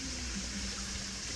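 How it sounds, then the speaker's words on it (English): Beef broth pouring steadily into a pot for beef stroganoff, a continuous soft liquid stream with no talking. "we're going to add in a couple cups of our beef broth"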